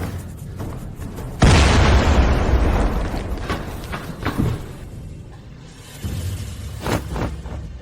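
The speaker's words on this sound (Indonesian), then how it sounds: "Di sini ledakan di mana-mana." Explosions tearing through a building in a drama, a sudden loud boom followed by a long rumbling roar and debris, then further smaller blasts and bursts echoing afterward.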